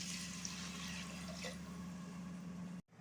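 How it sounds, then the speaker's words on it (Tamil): Water poured into a cooking pot for parboiled rice and lentils, a steady, faint splashing stream that runs for about three seconds and then cuts off abruptly. "இப்போ நம்ம தேவையான அளவு தண்ணி சேர்த்துடலாம்."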